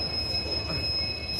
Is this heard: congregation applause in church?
no